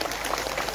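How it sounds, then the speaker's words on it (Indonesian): An audience at a public gathering in Indonesia claps, a brief, dense, fairly loud burst of applause with no speech. "Tepuk tangan untuk Pak Prabowo"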